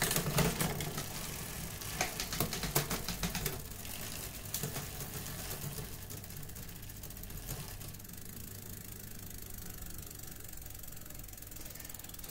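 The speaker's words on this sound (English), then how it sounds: "Let's just go through the gear changes. Go all the way through all the gear range," A Giant Anthem or Trance mountain bike shifting through its whole gear range, with a steady ratcheting, whirring drivetrain and quick clicks early on, fading to an even mechanical hum, close and alone.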